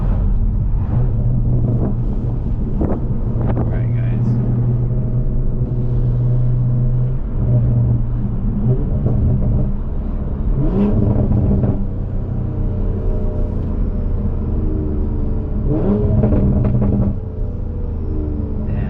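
Engine of a Toyota Supra with a B58 engine while driving, a loud, continuous low rumble from inside the car with shifting engine tones and revs, occasional muffled voices underneath.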